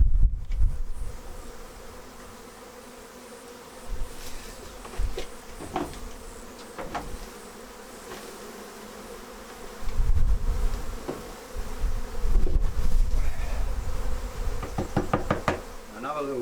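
Honey bees buzz around a swarm trap or hive box, a steady insect drone running throughout with occasional knocks and bumps nearby and louder bursts of buzzing toward the end.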